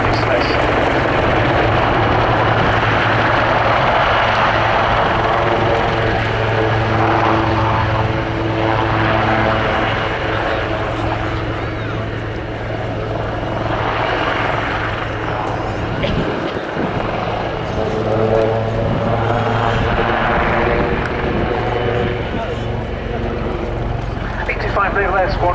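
Royal Navy Wildcat HMA2 helicopter flying a display at the RAF Cosford airshow, a loud sustained rotor and turbine roar with pulsing swells, heard under an announcer's commentary.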